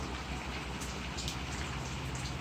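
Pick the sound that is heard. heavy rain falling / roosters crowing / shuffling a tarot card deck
heavy rain falling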